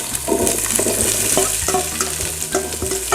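Garlic and onions fry in hot oil in a pan with a loud, continuous sizzle, broken by regular scraping strokes of a spoon as they are stirred.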